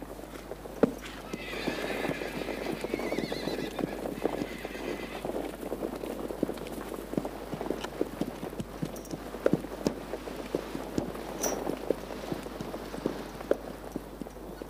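Horses walking with steady clip-clop of hooves and several neighs, set in a 1978 film, moderately loud and continuous with a faint background hiss.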